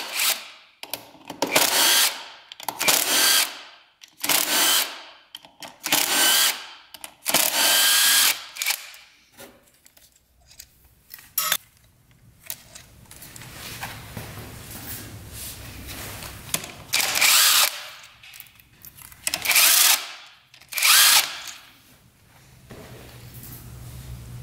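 A power tool works loose the clutch of a Honda TRX450 quad in about ten loud, close whirring bursts separated by short pauses, with some light metallic clinks between them.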